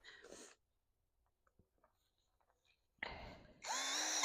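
A power drill worked into a compost pile to aerate it buzzes in a short burst, falls quiet with faint rustling, then starts up again loudly for its last second or so.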